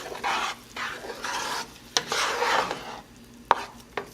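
Pasta pomodoro tomato sauce stirred in a hot pan, several scraping sweeps of a utensil over a soft sizzle, with a few sharp clacks against the pan edge near the end.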